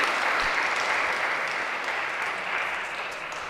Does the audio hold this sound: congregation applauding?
yes